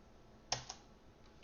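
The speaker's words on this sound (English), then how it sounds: "come on keyboard, work with me here" A few quick taps on a computer keyboard during coding, faint and close, with a brief cluster of keystrokes and then near silence.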